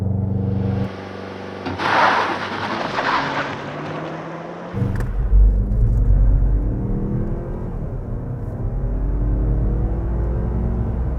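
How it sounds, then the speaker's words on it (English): A 2021 Mazda CX-30 GT with a 2.5-liter turbo four-cylinder and all-wheel drive is brake-boosted, with revs held, then launched hard, its engine note climbing loudly through rising gears inside the cabin. "Turbo all-wheel drive GT without launch control. Brake boost."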